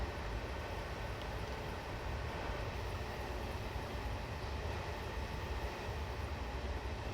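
Hitachi and Bombardier trains running on the Met line in Train Sim Classic, a steady, loud, continuous rumble and roar of rolling stock on rails, unchanging throughout with no talk.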